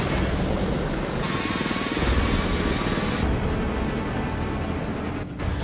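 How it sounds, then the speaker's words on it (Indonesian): Helicopter in an action film flying in, a continuous loud rotor and engine roar with a dense broadband rush that shifts in tone partway through, no voices. "helikopter yang akan mendarat untuk menjemput mereka tiba-tiba ditembak jatuh roket"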